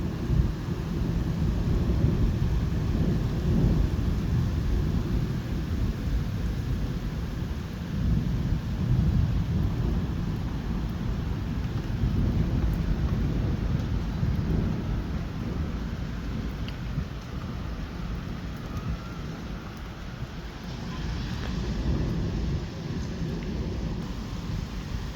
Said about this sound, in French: Bon, un orage très très fort, hein, ça en tout cas c'est sûr.